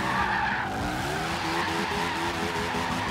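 Continuous loud tire skid and squeal from a car drifting sideways in Forza Horizon 3, with engine roar underneath, sustained without a break.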